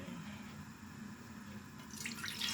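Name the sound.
water being poured into a cooking pot for soup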